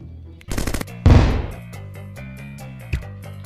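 Rapid video game gunfire: a burst of automatic shots followed by a loud heavy blast that decays, then a lighter single shot, over looping game music.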